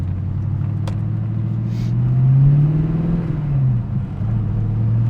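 A 1998 TVR Chimaera sports car pulls away, its engine rumbling low, then rising in pitch as it accelerates before the revs drop back to a steady drone, heard from inside the car.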